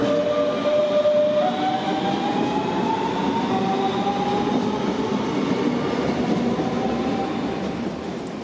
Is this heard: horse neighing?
no